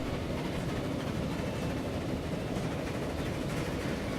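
A train rolls steadily along the track in the Transport Fever video game, a continuous rumbling clatter at even loudness with no pauses or talk.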